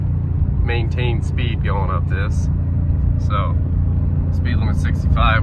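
A 2024 Toyota Tacoma with a four-cylinder engine tows a tractor up a hill, giving a constant low engine and road drone beneath someone talking.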